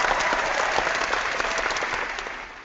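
Loud, dense applause from a seminar audience fills the room as a continuous wash of many hands clapping, holding steady before tapering slightly at the end.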